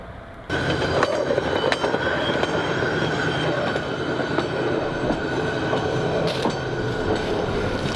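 A train rumbles past on the tracks, loud and continuous, with rhythmic clacks, metallic squeals and a sudden onset as it arrives.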